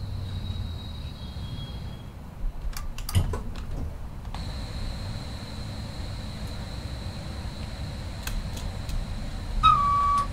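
In Train Simulator Classic, a Hamburg U-Bahn train at Meßberg station gives a thin, steady whistle-like horn tone that runs for several seconds, followed by a brief rising squeal and scattered clicks over low rumble.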